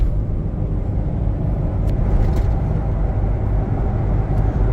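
A lifted Toyota FJ Cruiser on big tires cruises at 75 mph, giving a steady broad road and engine rumble inside the cabin, constant and moderately loud with faint brief ticks above it.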